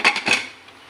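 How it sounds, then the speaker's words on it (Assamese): A lid being closed on a pressure cooker in a kitchen while cooking broiler chicken, heard as a few quick, close metallic clanks and rattles that fade to quiet. "এটা কুকাৰত ঢাকনখন মাৰি দিলোঁ"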